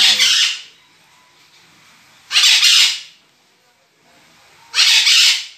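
Parakeets give three loud, harsh squawks at evenly spaced intervals, each a short raspy burst separated by near silence.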